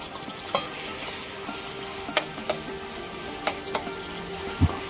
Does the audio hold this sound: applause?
no